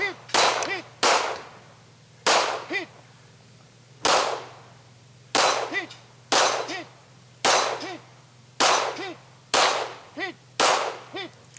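Handgun shots ringing off steel pistol targets at a competitive shooting match, about eleven sharp cracks each followed by a bright metallic clang, fired in an uneven steady rhythm with short pauses.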